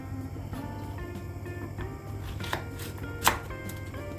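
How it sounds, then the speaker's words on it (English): A knife roughly chops courgette on a board, with a few scattered, fairly soft cuts, one sharper knock near the end, and a low steady background hum. "I'm just roughly going to chop this up"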